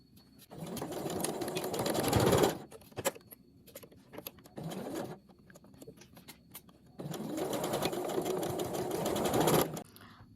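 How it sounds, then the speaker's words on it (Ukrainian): A sewing machine stitches a seam along a skirt waistband in two long bursts with a quieter, intermittent stretch between them, running loud and close with no talk. "І отут з краю прокладаємо строчку, для того, щоб зашити і оформити такий акуратний край."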